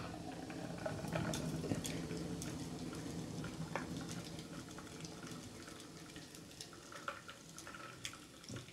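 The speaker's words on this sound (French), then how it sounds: "on va prendre notre passoire à glace, notre passoire à filtre fine, histoire de retirer les potentiels petits résidus de menthe ou des hibiscus" A cocktail of mint and hibiscus syrup streams through a fine mesh strainer into a glass, a steady continuous liquid trickle with faint splashes throughout, fairly quiet and unaccompanied by talk.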